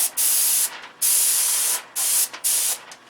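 Aerosol spray paint hissing out in four short bursts over a stencil on a control-line P-51 model plane, close and loud, with brief silent gaps between them.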